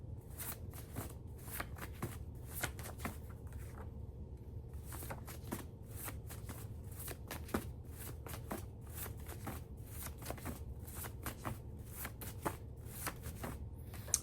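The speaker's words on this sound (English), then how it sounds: "So I'm going to pull a couple of cards on camera." Tarot cards are shuffled and pulled, producing a long run of crisp riffling flicks and snaps at a steady, uneven pace, close and moderately quiet over a low background hum, with no voices.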